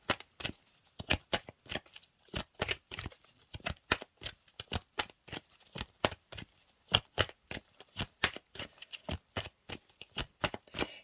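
Numerology cards riffled and shuffled by hand during a card reading: a long run of crisp, close snapping flicks in quick irregular bursts, with no talking.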